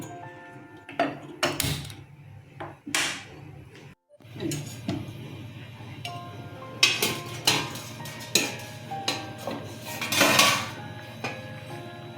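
Metal pot and lid clatter on a stove while cooking a taro-leaf dish with hilsa fish head: several sharp clanks and knocks at irregular intervals, with a low steady hum underneath and a brief silent gap.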